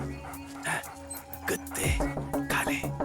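A dog whimpers and yips in short bursts while a man calls it over to eat, his voice close and overlapping the animal's sounds in a small indoor scene.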